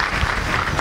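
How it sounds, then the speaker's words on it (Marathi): A crowd at a religious gathering honouring a saint claps together, a dense, even patter of hands that stays fairly loud and close for a brief burst. "वाजवा टाळ्या."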